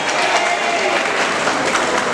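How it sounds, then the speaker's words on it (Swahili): Loud, steady applause rolls through a hall as the audience claps at a committee election gathering in Malindi, a dense continuous patter of many hands with no pauses. "Hebu tupigie makofi"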